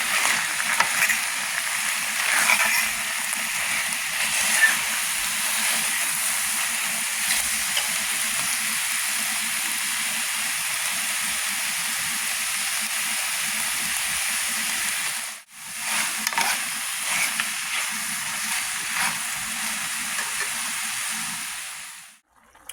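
Cheesesteak filling of steak and vegetables sizzling in a pan, a steady broad hiss with faint stirring scrapes that runs alone for about fifteen seconds, breaks off briefly, then resumes.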